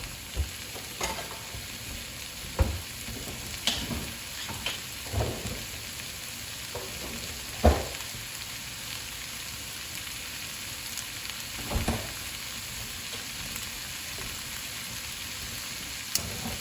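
Corned beef hash frying in a pan gives a steady, close sizzle, with scattered louder scrapes and knocks of a spatula stirring through it.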